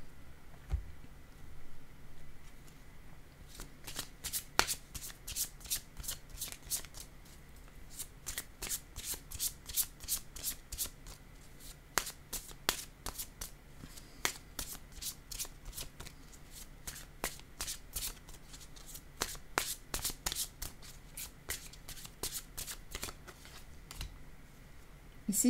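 Cards being handled and laid down during a card reading, with quick, crisp flicks and riffling bursts repeating close by at a fairly quiet level. No one talks over them.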